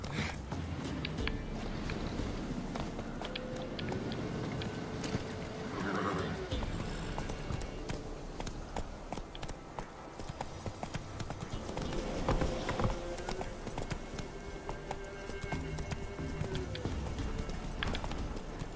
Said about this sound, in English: Es increíble que el caballo se meta justamente en el peor sitio posible.